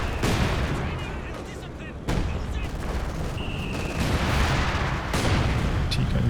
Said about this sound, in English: A bit of a mortar fire.